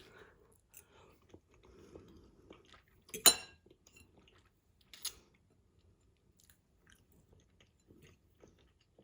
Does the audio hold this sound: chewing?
yes